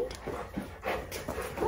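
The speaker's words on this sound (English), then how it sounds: "Oh, the puppy." A puppy whimpers and whines in short, high, nasal bursts at close range, with soft panting between the cries.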